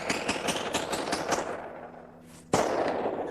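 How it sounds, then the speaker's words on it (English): Gun fired during target practice in a forest: a quick series of sharp outdoor shots, a short lull with a faint hum, then one loud close blast at the end. "Dylan Klebold and Eric Harris go to the forest with friends for firing practice."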